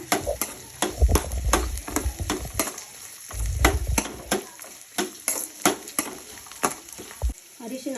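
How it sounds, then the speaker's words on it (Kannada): Chopped okra stir-fried in a pan, a busy run of repeated scraping and clacking strokes from a spatula over a low sizzle, close and fairly loud, with no talking. "ಹುರಿಯೋದಕ್ಕೆ ಬೆಂಡೆಕಾಯಿ ಲೋಳೆ ಬಿಡೋವರೆಗೂ ಇದನ್ನು ಚೆನ್ನಾಗಿ ಕೆಂಪಗೆ ಮೆತ್ತಗಾಗೋವರೆಗೂ ಹುರ್ಕೋಬೇಕಾಗುತ್ತೆ"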